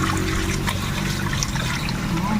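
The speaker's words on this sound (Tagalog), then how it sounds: "Lagyan natin ng tubig." Water poured from a container onto salted catfish (hito) being prepared for drying, a steady trickling splash running the whole time, close and fairly loud.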